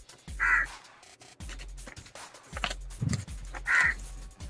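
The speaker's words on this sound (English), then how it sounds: "Really sorry about the crow sound." A crow sitting outside a window caws twice, loud harsh calls spaced a few seconds apart, with soft rustling of paper being folded nearby.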